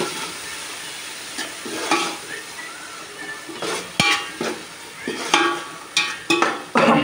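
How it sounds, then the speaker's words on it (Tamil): Tomatoes sauté in oil for a Tirunelveli-style mutton biryani, with a continuous sizzle under repeated spatula scrapes and clinks against the pan that grow busier toward the end, heard up close. "ஆமாம், தக்காளி கொஞ்சம் வதக்கணும் லைட்டாக."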